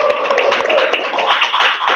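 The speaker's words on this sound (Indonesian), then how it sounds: "Tepuk tangan dulu dong buat Bayu." A classroom group claps together for a student, a steady dense patter of many hands close by that fills the whole two seconds, with faint murmuring voices mixed in.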